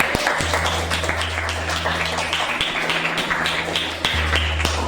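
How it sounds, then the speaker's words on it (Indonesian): Classroom audience in an Indonesian teacher-training session bursts into applause: continuous, fairly loud clapping from a group, close and lively, with a steady low hum underneath and no talk over it. "tepuk tangan buat kita semua"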